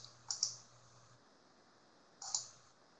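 Two bursts of quick mouse clicks on a computer, a double click near the start and another pair about two seconds later, crisp and close against a quiet room.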